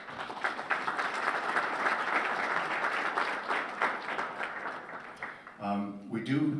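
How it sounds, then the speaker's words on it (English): A crowd at an awards ceremony gives a dense, sustained round of applause that fades near the end as a voice begins speaking. "let's give everyone a round of applause"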